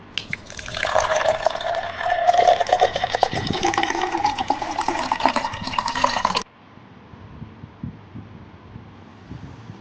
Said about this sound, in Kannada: ಈಗ ನೀರು ಹಾಕ್ತಿದ್ದೀನಿ